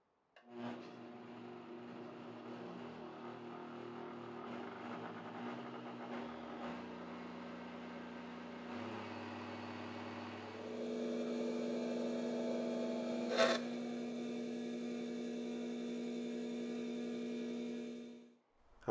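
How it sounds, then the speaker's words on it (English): A Vitamix blender with the AER disc container blends chocolate sauce, a steady motor hum that steps up in pitch and loudness partway through as it ramps to speed 6, then cuts off at the end. "I'm going to go ahead and touch the start button, and I'm going to slowly ramp it up to speed 6."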